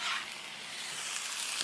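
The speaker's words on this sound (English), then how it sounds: "throw in all of the artichokes" Drained artichoke hearts sizzling in a hot pan, a bright steady hiss close by, slightly louder at the start when they hit the pan, then an even frying sizzle.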